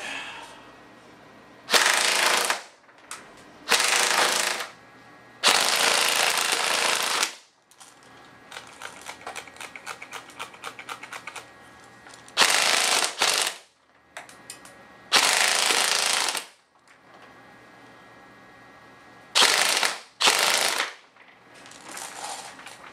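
An Airsoft GI G4A1 electric airsoft rifle runs on a LiPo battery, firing about eight sharp full-auto bursts of varying length at close range, with quieter clicking and handling noise in the gaps between them.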